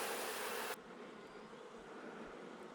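Honey bees swarm around an open hive during a split inspection, making a continuous close, dense buzzing drone. The hum is loudest at the start, then settles into a slightly softer steady buzz that continues throughout.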